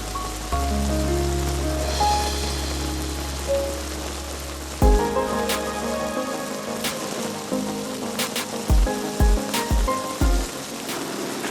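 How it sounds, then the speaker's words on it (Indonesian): Rain falls steadily with a dense, hissing patter. A few sharper drip or tap sounds stand out near the end, and a low sustained tone fades out early on. "hujan lagi"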